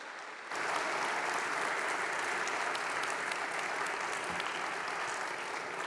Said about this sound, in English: Can we give Matt a round of applause and say thank you